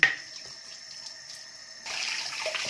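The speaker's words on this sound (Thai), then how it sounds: "ล้างมือล้างล้างล้างล้าง แปรงแปรงแปรง ล้างให้เกลี้ยงนะแล้วก็เช็ดให้แห้ง" Hands are washed under a running tap, a soft steady stream of water that splashes louder and fuller partway through, close by with no talking.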